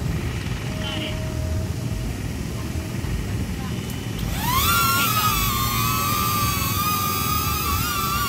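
A high, whining buzz of a DJI Neo drone's small propellers spins up suddenly and holds steady as it lifts off, over a faint background hum.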